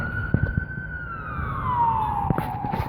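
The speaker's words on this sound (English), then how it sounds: "we got a siren going by" An ambulance siren passing by on a street in Vietnam, a loud sustained wail that holds steady then slides downward as it goes past, with faint traffic noise beneath.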